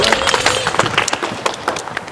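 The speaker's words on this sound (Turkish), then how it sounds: "Evet, ben de alkışlıyorum sizi." Applause for children at an event in Edirne, a burst of dense, crackling hand clapping heard close and steady for a couple of seconds.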